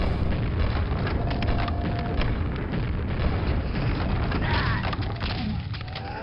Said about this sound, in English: grenades seem to work reasonably well against them